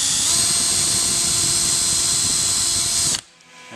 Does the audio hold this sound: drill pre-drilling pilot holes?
yes